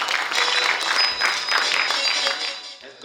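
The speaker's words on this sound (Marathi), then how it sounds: "एकदा टाळ्या जोरदार त्यांच्यासाठी" An audience at a university alumni meet applauds a singer, giving a dense, continuous wash of clapping that holds steady and then tapers off slightly near the end.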